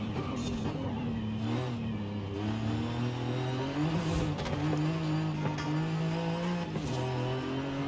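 A 1990s JDM sports car with long gearing revs hard under full throttle in the video game Forza Horizon 5, its engine note climbing and shifting pitch steadily, loud and close, with faint tire noise.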